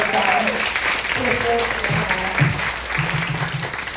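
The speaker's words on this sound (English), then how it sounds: "Please, another really great round of applause for Maria." Steady applause from a crowd, dense clapping throughout with a voice speaking over it.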